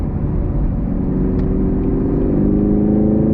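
Cabin recording of a 2022 Chevy Camaro SS 1LE V8 under throttle, a continuous deep engine rumble and whir that rises slightly in loudness toward the end, with no voices.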